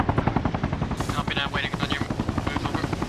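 A helicopter flies close overhead as an escort in the video game Arma Reforger, its loud rapid rotor thumping pulsing steadily throughout while someone talks over it.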